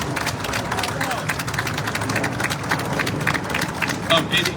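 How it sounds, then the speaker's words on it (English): A crowd at a political rally about a menthol ban claps in a dense, continuous patter, mixed with voices and murmuring, close and fairly loud throughout. "Clap your hand."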